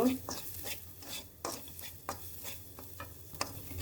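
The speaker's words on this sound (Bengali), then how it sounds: "গাজর দিলাম, গাজরটা একটু ভেজে নেব" Carrots frying in oil in a pan for a homemade chhana paratha, with soft steady sizzling under repeated stirring scrapes and clinks, close and moderate in level, no voices.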